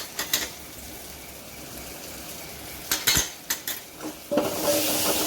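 Turmeric being stirred into an onion-tomato tempering in a pan, with spoon scrapes and clinks against the metal over a soft sizzle, louder scraping bursts toward the end; no voices.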